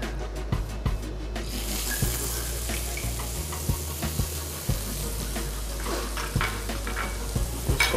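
Chopped onion fries in oil with a continuous sizzle, and irregular stirring knocks and taps break through it over the whole stretch, with no speech.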